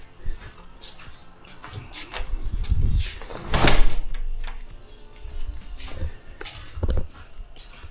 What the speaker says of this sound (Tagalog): sasarado ko muna itong pinto dito